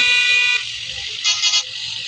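A customised auto rickshaw horn in a video game, with loud electronic toots: one long blast, then two shorter beeps close together, sounding alone.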